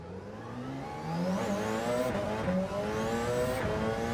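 Porsche race car in Gran Turismo 7, its engine revving up through the gears with a steady rising whine and a loud, continuous drone, with no talking over it.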